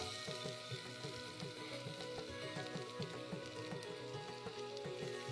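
Sprouted fenugreek (methi) goes into a hot pan already seasoned with turmeric and chilli powder, and a steady, dense sizzle of frying rises and holds close and even throughout, with faint stirring scrapes and no voices.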